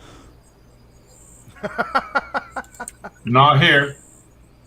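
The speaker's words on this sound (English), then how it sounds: "No, it's like crickets or cicadas or whatever the hell they're called." Crickets chirp at night somewhere in the tropics, a faint, high, thin trill in the background. Someone talks briefly over it.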